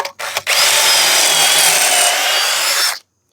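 A power drill whirs loudly and continuously for a few seconds after two short bursts while drilling a pocket hole with a Kreg Rebel pocket hole joiner, then stops abruptly into silence.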